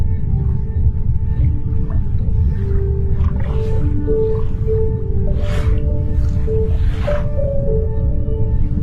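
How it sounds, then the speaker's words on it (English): Humpback whale song under the ocean surface: drawn-out moaning and rising wails with higher squealing calls, loud and close over a constant deep rumble, with no voices. "The humpback whales that fill the oceans with their haunting song are but some of its giants."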